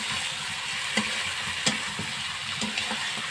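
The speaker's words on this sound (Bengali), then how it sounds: "তো দেওয়ার পর নাড়াচাড়া করবেন, কড়াইয়ের মধ্যে নাড়াচাড়া করবেন" Chicken curry with potatoes sizzles in oil in a kadai while being stirred, with a soft steady fry and several sharp scrapes and clicks of the spoon against the pan at irregular moments.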